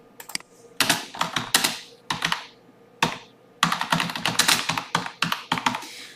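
Rapid typing on a computer keyboard during website content work, heard as close, crisp bursts of keystrokes separated by short pauses, with no voices.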